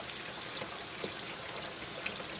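Steady cartoon rain falls as a dense, even hiss of drops during a stormy scene, with a few slightly louder patters standing out and no talking.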